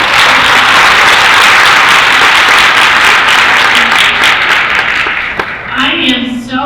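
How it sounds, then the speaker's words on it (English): Loud, sustained applause from a crowd honoring sponsors at an Alzheimer's state plan event in Rhode Island, thinning out toward the end as a voice begins to speak. "Let's have a great round of applause for all these sponsors."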